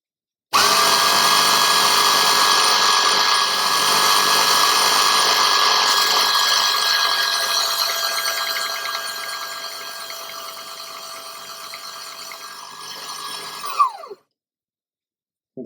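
A Proxxon mini belt sander whirs steadily with a high motor whine, runs alone for several seconds, then winds down and stops.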